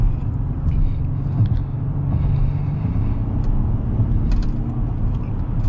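Loud, steady low engine rumble inside a 2022 Acura MDX A-Spec SH-AWD, with engine noise piped into the cabin, holding an even drone throughout alongside a few faint clicks.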